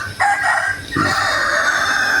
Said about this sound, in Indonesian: Ini ada suara ayam-ayam warga